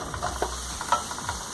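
Onion and garlic sizzle steadily in hot oil in a pan, with occasional stirring scrapes and light crackles over a constant frying hiss.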